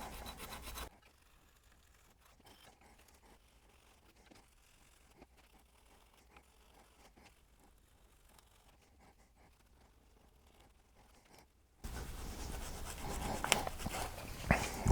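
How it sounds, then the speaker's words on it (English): Old gasket and burned oil residue are scraped off a 2008 Pontiac Grand Prix GXP valve cover without solvents: a brief raspy scrape, a long near-silent pause, then several seconds of steady, close scraping. "getting the old gasket and burned up oil off of the surface here to make a clean seal for your new gasket to seat"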